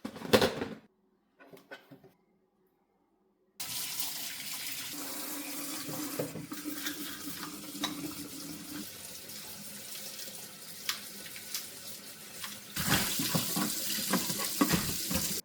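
Tap water runs into a sink while a humidifier is being cleaned, starting with brief splashes and then a steady, close rushing stream that grows louder toward the end.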